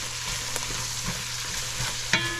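Thinly sliced carrots sauté over high heat in a hot pan, giving a steady close sizzle with soft scraping stirs and a sharp clink of a utensil near the end, no voices.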